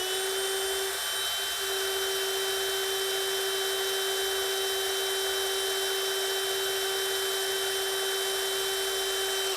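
A steady, high-pitched electric drill motor in a workshop whines continuously at an even speed, loud and close, with no voices.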